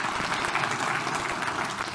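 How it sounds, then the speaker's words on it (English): Dense round of applause from a lecture audience at an evening memorial lecture, steady and fairly loud throughout the short span with no voices over it. "let's give them a round of applause"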